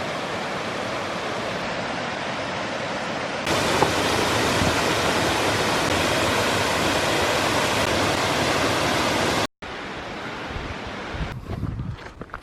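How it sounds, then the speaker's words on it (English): A giant waterfall at Foster Falls roars as a dense, steady broadband rush, growing slightly louder partway through, then cuts out briefly before resuming more faintly with some rustling near the end. "We came around a corner and it was like giant waterfall."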